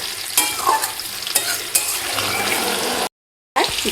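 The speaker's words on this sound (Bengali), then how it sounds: "খাসির মাংসের আলু তো একটু লাল লাল করে ভালো করে ভেজে নিতে হবে।" Potatoes for a mutton curry fry in hot oil, a loud close sizzle broken by repeated spatula scrapes and stirs, with a brief dropout near the end.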